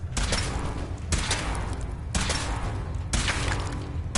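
Video game gunfire from a weapon test, heard as four heavy, evenly spaced blasts about a second apart, each with a long rumbling tail, loud and continuous throughout.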